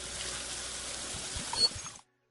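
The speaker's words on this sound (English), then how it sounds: "and we always wash with soap and water." Water runs steadily from a tap during hand washing with soap, a continuous close splashing stream that cuts off abruptly after about two seconds.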